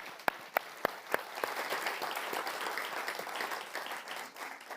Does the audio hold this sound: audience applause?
yes